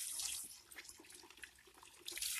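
Muddy water drains out of a rock filter for a greenhouse pond, a faint trickling and gurgling flow that swells and eases slightly, heard alone without talk.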